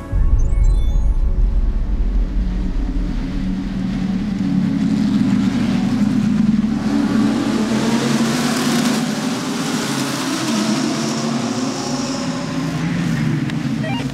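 A racing car drives hard on a circuit, its engine a loud continuous drone that shifts in pitch as it passes, with no voices over it.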